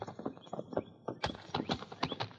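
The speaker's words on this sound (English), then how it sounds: "The two Mounties dismounted and led their horses off to one side among the pines." Horses of mounted police led on foot among pines, hooves clip-clopping in a steady irregular rhythm at close range, fairly quiet and with no talk.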